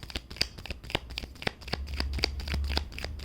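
A deck of tarot cards is shuffled by hand, giving quick, crisp riffling and flicking snaps in an irregular rapid rhythm, close and moderately quiet.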